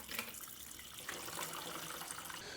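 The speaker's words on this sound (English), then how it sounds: "So after draining the coolant" Coolant pours from the radiator of a KTM two-stroke TPI motorcycle into a container through a funnel, a steady, close rush of splashing liquid that runs the whole time with no talk.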